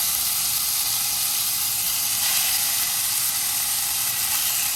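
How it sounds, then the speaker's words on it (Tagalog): Pork frying in a hot wok-style pan over medium-high heat, a loud, steady, close sizzle and hiss that runs unbroken throughout with no voices. "So, pag mainit yung ating kawali, lagay na natin yung ating pork."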